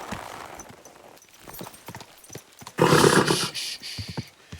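Horse hooves and snorting in the video game Kingdom Come: Deliverance 2, heard as soft clip-clop steps with a louder burst of movement midway, alongside other game sounds.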